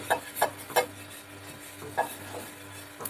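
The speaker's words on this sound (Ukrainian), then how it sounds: "Перед смаженням млинчиків обов'язково ще раз перемішайте все тісто." Crepe batter stirred in a bowl before frying, several sharp scraping clinks of a utensil against the bowl at uneven intervals over a faint steady hum, close and alone.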